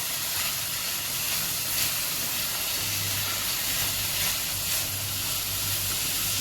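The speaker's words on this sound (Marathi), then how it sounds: "आपण ब्रोकोली टाकणार आहे, मक्याचे दाणे आणि हिरवे वाटाणे. आता हे सगळं आपण परतून घेऊया." Broccoli, corn kernels and green peas sizzle steadily in a pan while being sautéed, a loud, continuous hissing fry with a faint low hum underneath and no talking.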